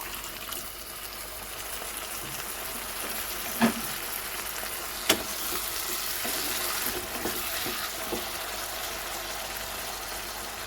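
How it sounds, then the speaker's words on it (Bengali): Eggplant masala for baingan masala sizzles steadily in a pan, a soft continuous frying hiss with a couple of sharp pops and clinks, no voices. "তারপর এতে 1/2 কাপের মতন গরম জল দিয়ে দেবো।"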